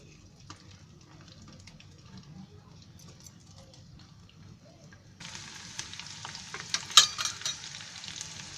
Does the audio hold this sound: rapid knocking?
no